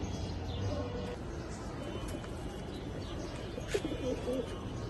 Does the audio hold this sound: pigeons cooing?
yes